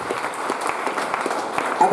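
A seminar audience in Varanasi claps as a guest comes on stage, producing moderately loud, somewhat uneven applause with individual claps standing out.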